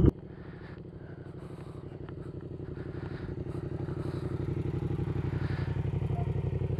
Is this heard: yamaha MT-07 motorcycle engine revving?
yes